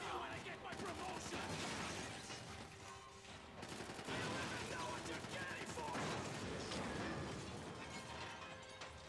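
Dense gunfire in the video game Max Payne 3, rapid overlapping shots and bursts with mechanical clatter, loud and continuous across the whole stretch, with a voice talking faintly beneath.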